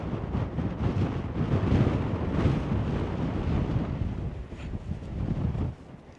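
Wind gusting steadily across a rough, high-elevation volcanic rock mountainside, a loud, continuous buffeting rush hitting the microphone, rising and falling slightly and easing near the end, with no one speaking.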